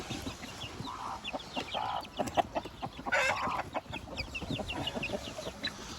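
Native hens clucking and cackling in a lively flock after laying eggs, repeated close calls with a brief louder squawk midway, busy and continuous without speech.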